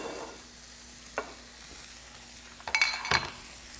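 Wagyu beef fries in a smoky pan with a quiet, steady sizzle, broken by a few sharp clinks and scrapes of a utensil against the pan near the end.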